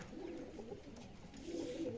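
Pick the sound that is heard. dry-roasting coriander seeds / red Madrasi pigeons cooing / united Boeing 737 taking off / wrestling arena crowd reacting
red Madrasi pigeons cooing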